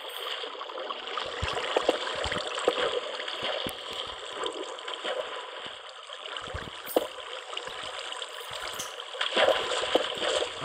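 Steady trickling and gurgling of flowing water in the block-building game Minecraft, a continuous close wash with small splashy accents and no talk over it.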